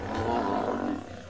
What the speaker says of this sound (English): Can you hear that? Those loud roars.